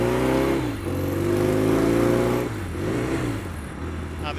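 Royal Enfield Mk1 Interceptor motorcycle engine pulling away and accelerating along a seaside road, a loud close drone rising in pitch, easing off briefly near the middle and then building again.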